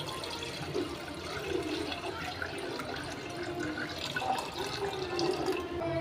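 Second-press coconut milk pours into a pan on a stovetop for a coconut milk ada payasam, giving a continuous liquid splashing and trickling that stays moderately loud throughout.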